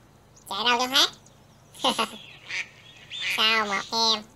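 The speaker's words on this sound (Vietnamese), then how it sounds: "À, thấy vịt rồi, hai con luôn." Cartoonish duck quacks and honks from a river-hunting video game featuring a giant snake preying on crocodiles and ducks, in several bursts of repeated calls close up and fairly loud over a faint background hum.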